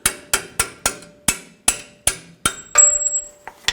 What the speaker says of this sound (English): I'll just take a punch and just hammer the bolt out